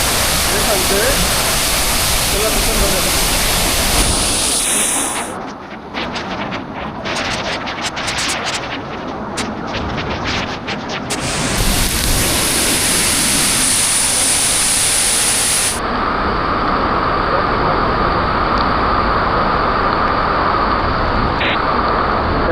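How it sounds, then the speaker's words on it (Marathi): A waterfall near Murbad swollen by heavy rain roars loud and close with a dense continuous rush that shifts in tone as the view moves; a voice is faintly present. "आता तुम्हाला दाखवतो किती रोज रूप धारण केलंय धबधब्याने"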